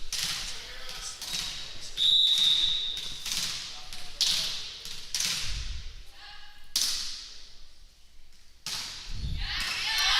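At a girls' high school regional volleyball match, a serve lands with a sharp hit amid a noisy gym crowd, while an announcer talks over the scene.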